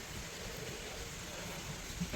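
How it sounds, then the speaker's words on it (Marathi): Rain falls steadily in a Maharashtra village as a soft, even, distant patter. "पाऊस काय एवढा पडतोय गावात, लय वेळ पडणार आहे."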